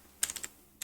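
Quick burst of computer keyboard keystrokes, four close crisp taps in fast succession, a short pause, then one final tap, clear and near with no talking.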